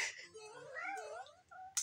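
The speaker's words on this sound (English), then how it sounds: "What are you meowing at, man?" A house cat lets out one drawn-out, wavering meow close by, rising and falling over about a second, with a faint click at the end.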